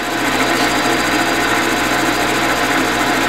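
Steady, loud noise of a machine cutting metal into short curly chips, with a constant mechanical whir and chatter, continuous throughout with no voices.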